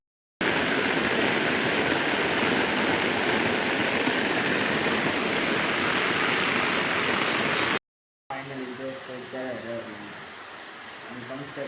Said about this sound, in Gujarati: હજી એક ધારો વરસાદ પડે છે જોઈ શકો છો તમે